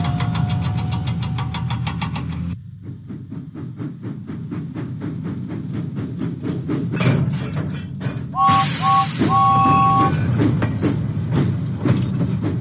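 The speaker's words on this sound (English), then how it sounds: "James pumped his pistons and puffed out of the docks." The steam engine James from a Thomas and Friends video game chugs in a rapid, rhythmic puffing beat. Clanks and whistle-like tones rise over it, and a voice talks partway through.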